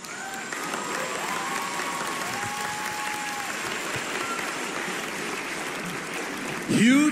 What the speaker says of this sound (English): round of applause for Tunisia, ladies and gentlemen